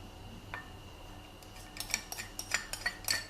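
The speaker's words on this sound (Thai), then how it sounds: "คนผสมนะคะทุกอย่างให้เข้ากันค่ะ" Spoon stirring sauce ingredients (seasoning sauce and water) in a cup for a fried tilapia with holy basil dish, starting as faint scraping and becoming a run of brighter clinks and taps against the cup toward the end.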